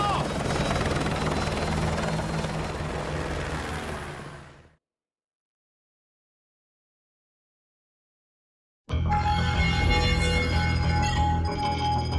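Helicopter in the video game Call of Duty Modern Warfare 2, a loud steady rotor and engine roar that fills the first few seconds and fades out, then after a silent gap a dense game soundscape returns.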